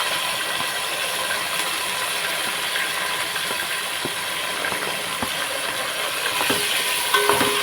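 Green chillies and onions frying in a pan: a steady, loud, close sizzle that runs throughout, with a few small clicks and clinks of a utensil near the end.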